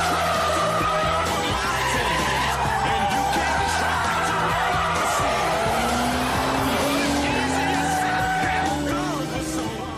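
A Noble M12 sports car corners hard, its tyres squealing loudly over a revving engine, with pitch rising and falling through the bend and shouting faintly mixed in.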